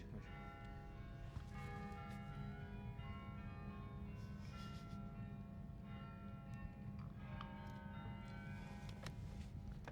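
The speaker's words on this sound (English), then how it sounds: "Damn the bells." Church bells ring continuously in overlapping peals, fairly distant and faint, against a low background hum.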